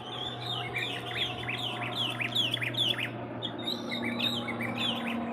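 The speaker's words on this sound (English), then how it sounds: "Hear the birds, it's nice." Several birds chirp and tweet outdoors in quick repeated bursts, fairly faint against a low steady background hum.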